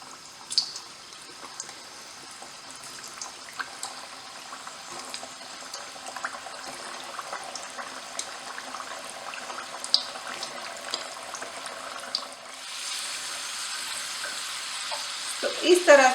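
Two medium sweet potatoes fry in hot oil, giving a steady close hiss with scattered crackles and pops that grows denser and louder toward the end.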